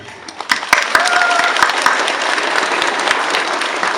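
Guests, parents and teachers at a graduation ceremony break into applause for the graduates, a few scattered claps swelling quickly into steady, dense clapping from a sizeable audience, with a brief voice early on.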